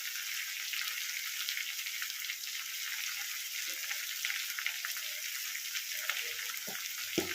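Ground coriander, dried spices and ginger fry in a pan for a Bengali bhetki fish dish, giving a steady, close, bright sizzle with a few soft stirring scrapes near the end.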